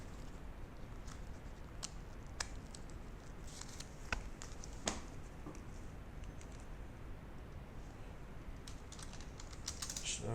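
A name is typed on a computer keyboard while filling in a card form, with steady close key clicks and a few sharper taps over continuous low room noise, no voices.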